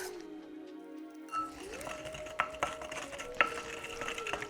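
Hot, unclarified butter with its milk solids is stirred in a pan for cooking steak with sesame garlic butter, giving a steady sizzle with a few sharp clinks of a utensil against the pan and no talking.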